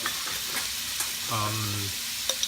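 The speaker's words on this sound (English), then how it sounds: "Put minced garlic. Cook this for 30 seconds." Minced garlic fries in a pan with a soft, steady sizzle. A brief tonal scrape or stir sounds partway through, and a couple of light clicks follow.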